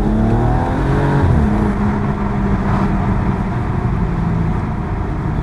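A BMW M135i accelerates hard in second gear with the gearbox in sport mode, the engine note rising steadily and then holding as a loud, continuous drone heard from inside the cabin.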